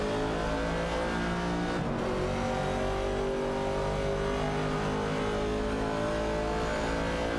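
Race cars in an AI-driven racing video game, including a Mercury Cougar and a Chevrolet Camaro, roar continuously at high revs, with layered engine notes rising in pitch under acceleration, loud and dense throughout.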